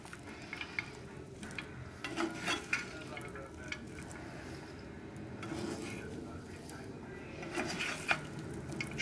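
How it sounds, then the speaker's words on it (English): Mango cubes being stirred into cooked white sweet potato with nuts in a pan, giving soft intermittent scraping and mixing sounds at low level, with faint talk in the background. "Just mix this up a little."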